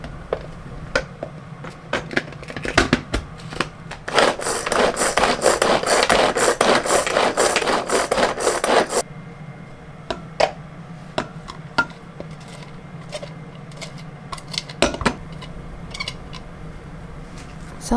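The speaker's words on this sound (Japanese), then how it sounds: "ニラも切ってみじん切りにしていきます" A knife mincing garlic chives (nira) on a cutting board, brisk irregular taps with a long stretch of denser scraping and rapid chopping in the middle, close and clear with no talk.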